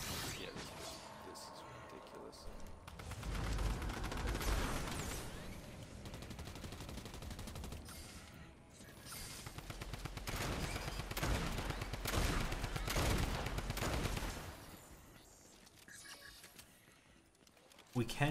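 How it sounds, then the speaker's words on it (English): Gunfire in Fortnite rattles in dense, continuous bursts at moderate distance, with game noise and muffled voices mixed in. "I heard gunshots not that far away."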